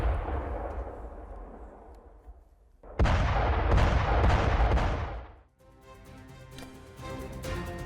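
Explosions from IDF bombing about 20 km from Damascus, Syria, heard as a heavy, booming roar that swells, holds loud for a few seconds, then fades, with a distant rumble before it and background sound after.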